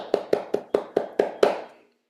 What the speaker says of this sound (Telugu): క్లాప్స్ కొడదాం.